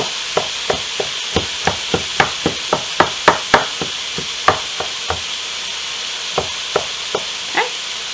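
Chicken frying in a pan, a steady broadband sizzle underneath a run of sharp, regular utensil clacks against the pan as it is stirred, close and fairly loud with no talking.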